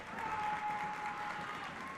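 A basketball crowd in a school gym applauds a player at the free-throw line, producing a steady patter of clapping through a short stretch with a faint tone underneath.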